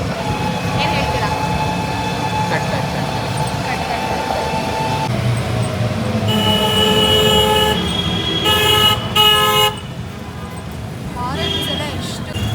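Street traffic in Gorakhpur fills the scene with repeated loud vehicle horns, some long and overlapping, over a steady engine rumble while people talk nearby.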